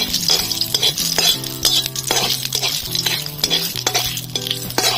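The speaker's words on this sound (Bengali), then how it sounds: "দিয়ে দেবো একটা শুকনো লঙ্কা, গোটা জিরে, একটা তেজপাতা ফাটিয়ে দেব। একটু ভাজা ভাজা করে নেব।" Steady sizzling of a dried red chili, cumin seeds and a bay leaf frying in hot oil, with a spoon scraping and clinking against the pan in an irregular rhythm, close up and fairly loud.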